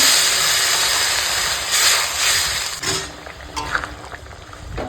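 Water hits a hot pan of spiced potatoes, tomatoes and green chillies for a Bengali fish curry, bursting into a loud steamy hiss that surges and then settles into softer bubbling.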